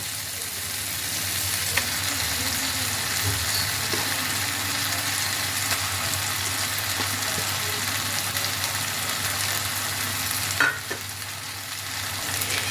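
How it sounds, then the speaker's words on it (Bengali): Eggplant for begun bhorta goes into a pan of frying spice masala, giving a constant loud sizzle with occasional stirring scrapes and a sharper clatter near the end. "মশলাটা ভালোভাবে ফ্রাই করা হয়ে গেছে এবার আমি এর মধ্যে দিয়ে দিচ্ছি বেগুনটা"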